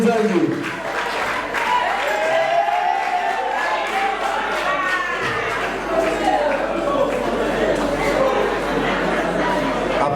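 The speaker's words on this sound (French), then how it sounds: "Nous applaudissons pour le diplôme de Nzangi." An audience at a diploma ceremony applauds a graduate stepping onto the podium, sustained loud clapping mixed with cheering voices and crowd chatter.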